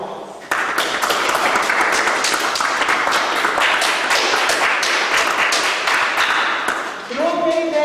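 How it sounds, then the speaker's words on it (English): Steady, loud applause from a crowd at a ceremony honoring a woman for a memorial marker project, sustained for several seconds before a voice begins near the end. "She deserves a round of applause."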